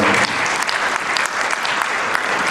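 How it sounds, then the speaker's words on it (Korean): Audience at a church pension members' general assembly applauding to approve a bylaw amendment; steady, dense clapping from a crowd filling the hall throughout, loud and close. "아까 어떤 회원이 말씀해 주셨던 대로 박수로 받아주시면 감사합니다"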